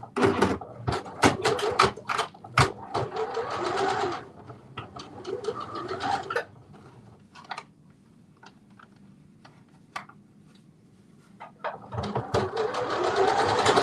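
A sewing machine runs in bursts, stay stitching half an inch from the edge of woven fabric within the seam allowance, with a long run at the start, a quieter stretch of scattered clicks in the middle and another fast burst at the end.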